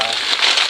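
Continuous crisp crackling and rustling of paper being crumpled, close and fairly loud, with no talking.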